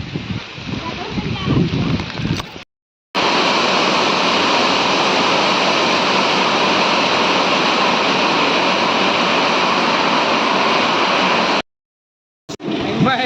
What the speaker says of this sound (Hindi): जोर शोर वर्षा देखने देखा